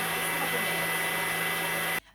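An electric mixer whisks a Biscoff eggnog mixture toward stiff peaks, a loud, steady whirring drone held close up that cuts off abruptly near the end.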